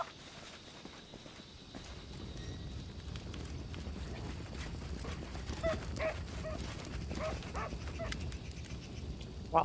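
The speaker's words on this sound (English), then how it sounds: "your potion made the dog go mad and attack me" A dog in the fantasy role-playing video game Pathfinder: Kingmaker barks and whimpers amid footstep-like thuds and game ambience, moderately close, with no talking.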